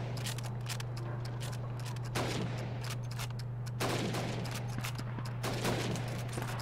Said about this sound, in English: You have 15 seconds to shoot the helmets